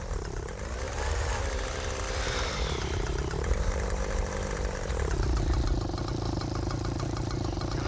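A small model aircraft engine in the Real Flight 5.5 simulator buzzes with a steady, raspy drone whose pitch rises and dips slightly as the throttle shifts, running alone without talk.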